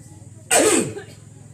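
A single sharp sneeze bursts out loud and close, preceded and followed by quiet background sound, in a group setting where people talk nearby.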